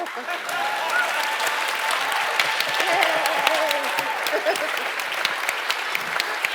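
A small round of audience applause at MythCon, a panel convention, with dense steady clapping that holds across the whole stretch while a voice talks faintly underneath.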